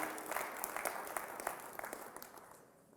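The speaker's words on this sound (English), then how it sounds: "Let's give them a super round of applause as they walk in so then they can bring a little energy." School assembly audience applauding as people walk into the room, a dense roomful of clapping that holds steady and then gradually thins and fades toward the end.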